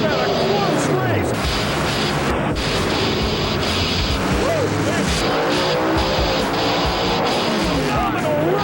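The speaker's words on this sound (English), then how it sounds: "Wow, what a drag race." Alcohol Funny Car and Pro Stock drag racers at the 2005 IHRA Rocky Mountain Nationals roar down the strip in a loud, continuous engine blast, with excited commentary over the top.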